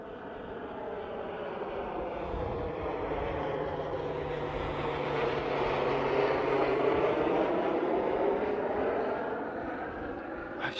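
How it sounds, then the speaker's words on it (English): A propeller airplane passes overhead, its steady drone swelling to a peak midway and easing off as it moves away, loud and continuous with no talking. "trying to keep up with that plane. It came overhead."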